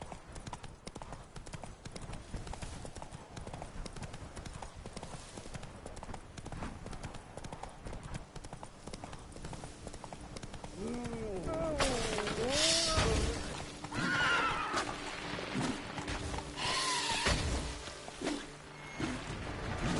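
Roach the horse in The Witcher 3 gallops with rhythmic clip-clop hoofbeats under game music, and a whinny rises partway through as the sound grows louder.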